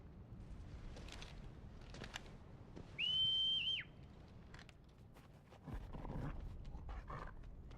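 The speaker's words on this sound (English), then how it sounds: "Ooh, the dog." Dog sounds in the video game Final Fantasy XVI: a short, high whining whistle-like yelp stands out amid scattered quieter game noises and rustles, followed later by a low rumble.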